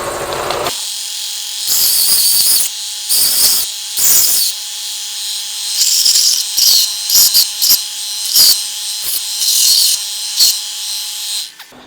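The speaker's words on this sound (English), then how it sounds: "set them together, and verify fitment on the belt sander" Belt sander grinding the sides of a custom battery box for an Evo Sportster chopper, loud bursts of high abrasive whine in several short passes with brief pauses between, no talking.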